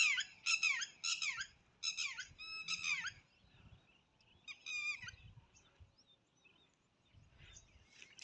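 Birds call at a village water tank in the hot midday sun: bursts of bright, squawky chirps come close together at first, then sparser calls drift in over a quiet rural background.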